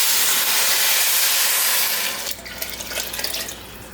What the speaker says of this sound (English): all we need to do now is cover this with water